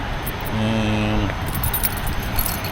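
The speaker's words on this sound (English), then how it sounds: "let's lock this up. Put the key in right, Ken." A ring of keys jangles briefly and close up while a fuel storage cabinet at a drag racing pit is locked, a short metallic rattle over steady outdoor background noise.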